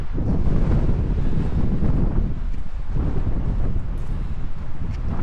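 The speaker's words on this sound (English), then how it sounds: "Holy crap, is it windy." Strong, steady wind roars and buffets the microphone throughout on a mountain hiking trail, a loud continuous low rumble with gusty surges and no voices.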